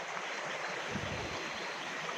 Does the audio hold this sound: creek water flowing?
yes